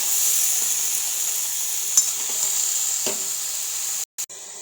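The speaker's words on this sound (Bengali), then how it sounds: "ভালোভাবে নাড়াচাড়া করে মিশিয়ে নিয়েছি" Pumpkin stem greens sizzle gently in a pan with a steady hiss, a few faint stirring scrapes and taps, and a brief cutout near the end.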